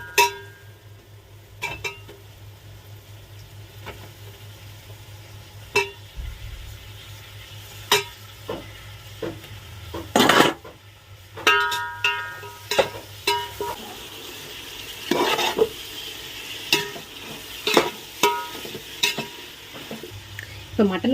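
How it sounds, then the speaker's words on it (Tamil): Mutton sizzles in a hot pan with chili powder while a spoon stirs and scrapes against the metal in repeated clinks and knocks, close by, louder toward the end. "மிளகாத்தூள் சேர்த்துக்கலாம். நம்ம க்ளீன் வச்சுருக்க மட்டன் சேர்த்துடலாம்."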